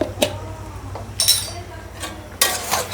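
A metal spoon scraping and clinking against a pot while stirring mutton with chilli powder, coriander-cumin powder and garam masala, with several sharp, close knocks at an uneven pace.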